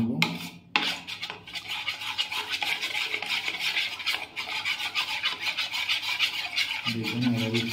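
Arrowroot mixture being stirred in a bowl, a continuous scraping rub with quick rhythmic strokes, close and fairly loud, with a short pause near the start and a faint voice toward the end.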